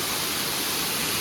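Water pouring down from above at Jatashankar temple on Girnar hill, a broad steady roaring hiss filling the short stretch, close and constant with no voices.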